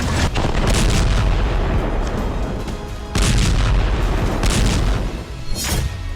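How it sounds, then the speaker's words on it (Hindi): Heavy bombardment in Khan Younis, Gaza, with loud deep booms and rumbling blasts that come in overlapping waves, one after another, close and powerful, with no voices. "अब भीषण बमबारी की जा रही है"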